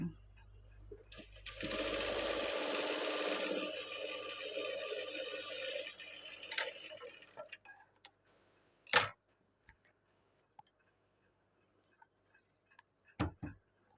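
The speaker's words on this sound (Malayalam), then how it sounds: "ഇനി ഇതിനൊരു മേൽ തയ്യൽ കൊടുക്കണം." A sewing machine top-stitching a blouse runs in one fast, loud burst of about two seconds, then slows and stops, followed by scattered sharp clicks and taps of handling in a quiet room.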